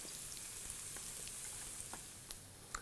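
Green chilies and onion frying in a pan for corn Manchurian make a soft, steady sizzling hiss with scattered faint crackles and pops, fairly quiet throughout, with no talking.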